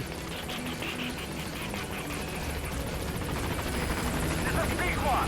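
The Pequod helicopter arrives in Metal Gear Solid V: The Phantom Pain with a continuous, loud rotor thrum and wash that grows slightly toward the end, with voices talking over it.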